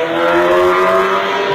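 Car traffic passing along a road in Virginia, a loud, near engine roar with a revving whoosh as a vehicle goes by, and no talk over it.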